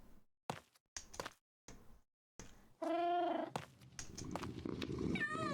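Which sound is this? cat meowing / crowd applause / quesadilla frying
cat meowing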